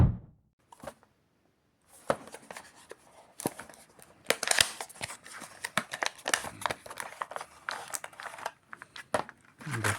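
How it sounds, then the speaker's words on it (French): Cheap Temu security cameras are unboxed, with close plastic and cardboard packaging crinkling, rustling and tearing in busy bursts, plus scattered knocks and taps, after a quiet start. "passons au déballage des produits"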